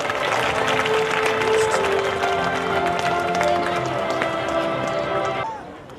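Audience applause at an annual school function, a dense wash of clapping that holds steady and loud for about five seconds, then quickly trails off with a short tonal sound near the end.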